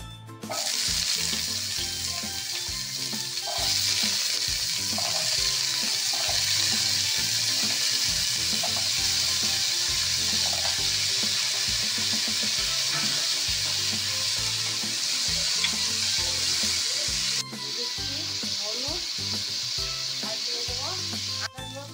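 Potatoes frying in oil with salt and turmeric for a potato and bitter gourd sabzi produce a loud, continuous close-up sizzle with occasional stirring clatters and a brief dip late on.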